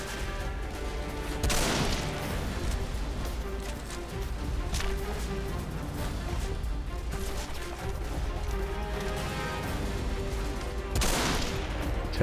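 Gunfire in the video game Deadfall Adventures, several loud sharp shots and bursts breaking through a steady bed of game ambience and music, with two especially strong blasts near the start and end.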